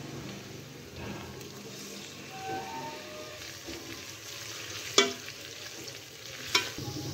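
Golden onions and green chillies frying in a pan for dhaba-style chana dal, a soft steady sizzle with light stirring and two sharp clinks of a utensil, quiet and close.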